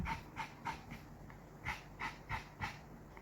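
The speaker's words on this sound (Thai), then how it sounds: "ฟังจากเสียงเขานะคะนี่เขาเริ่มหายใจดีขึ้น" A dog breathes in quick, rhythmic panting puffs, about ten close, soft breaths with short pauses between bursts, heard alone without voices.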